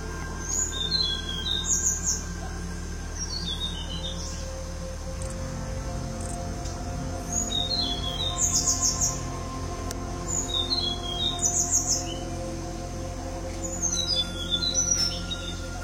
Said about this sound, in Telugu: మళ్ళీ నాకు టెక్కల్స్ బ్లూ ఫ్లై క్యాచర్ మళ్ళీ సౌండ్ వినిపిస్తుంది